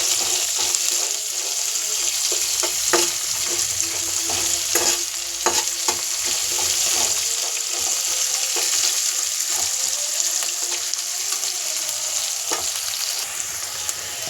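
Onions and chillies frying with lentil bori in a pan give a steady, close sizzle with scattered stirring clicks and scrapes throughout, no voices.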